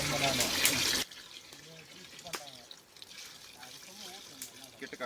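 Water poured into a pot while cooking goat head curry outdoors, a loud splashing gush at first, then softer trickling and dripping with voices in the background.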